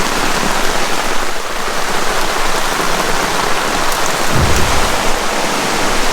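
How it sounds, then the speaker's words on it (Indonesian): Heavy rain hammers a camping tent at night during a storm at Filemon Camp, a loud, continuous roar of drops with a low thump partway through. "karena hujannya makin deras"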